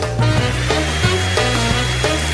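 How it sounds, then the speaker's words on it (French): A hair dryer blows steadily on chocolate bars set in a mould to melt them, a loud continuous motor whine with a wavering pitch, close to the microphone and with no talk. "maintenant, je vais les faire fondre avec un sèche-cheveux."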